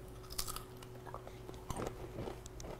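Crunchy microwaved bacon bitten and chewed up close, giving a run of crisp crackling crunches over faint background hiss.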